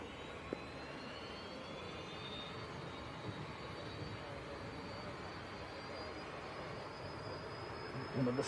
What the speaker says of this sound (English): Polish registered citation going out to Avignon.